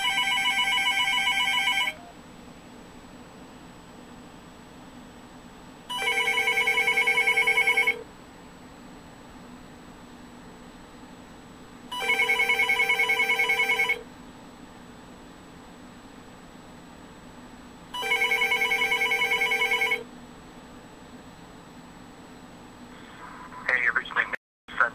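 A magicJack phone line ringing four times in evenly spaced electronic bursts with quiet gaps, before the call goes to voicemail, ending with a faint click and rustle.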